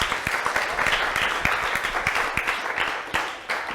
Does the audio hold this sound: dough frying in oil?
no